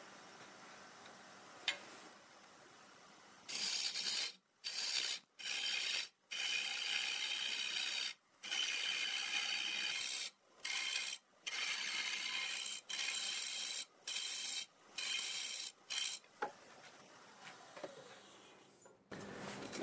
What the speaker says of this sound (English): I'm going to use my little hollowing tool to start the cut back that direction